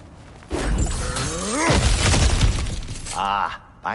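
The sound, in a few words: smashing through objects in the video game God of War Ragnarok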